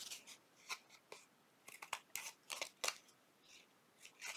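Scissors cut paper for junk journal corner pockets with a series of quiet, crisp snips and rustles, some closely spaced and others spread apart, close-up and faint, with no talking.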